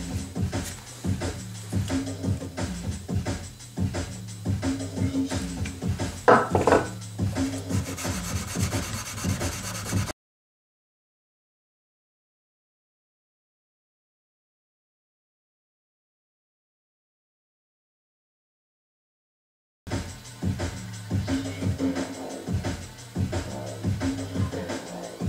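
Steady hand sanding and polishing of a knife blade bevel, a dense scraping rub repeated in continuous strokes for about ten seconds, then silence, then the same rubbing strokes resuming near and clear.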